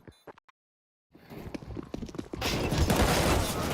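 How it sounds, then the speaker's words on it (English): Galil rifles in Counter-Strike: Global Offensive fire a dense, sustained flurry that builds from scattered shots into a loud continuous volley, after a few brief sounds and a short silence. "that flurry of Galils cuts him down"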